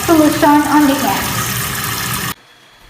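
Running tap water with antiseptic soap during a surgical arm and hand scrub, fingers interlaced and rubbed up to the elbows, a steady close splashing wash over a faint background voice that stops abruptly near the end.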